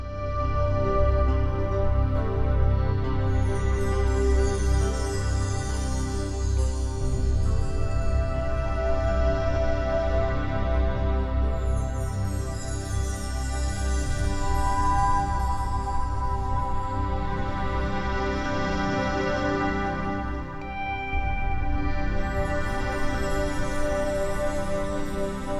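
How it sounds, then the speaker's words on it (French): Steady broadband rush of river water flowing past on the Ashuapmushuan or Métabetchouane river in Quebec during a ouananiche fishing trip, continuous and fairly loud throughout with no talk. "La seule chose qu'on entend, c'est le bruit de l'eau"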